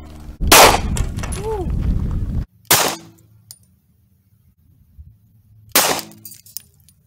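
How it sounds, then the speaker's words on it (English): Two 9mm Luger rounds from a Glock 17 fired into a single layer of bulletproof plexiglass, each a loud, close, cracking blast with a sharp impact, the first followed by a lingering rumble, the second after a long quiet gap. "we're gonna shoot one single layer of this bulletproof plexiglass with a 9mm Luger using my Glock 17."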